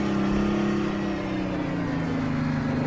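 A cold Detroit Diesel 6V92 truck engine in American Truck Simulator, running in heavy snow with a steady, loud droning rumble that sags slightly in pitch, close and continuous with no talk.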